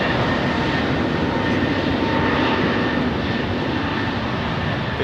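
A Boeing 767 jet climbs after takeoff from London Heathrow, its engines a loud, continuous wideband roar that holds steady throughout with no talking.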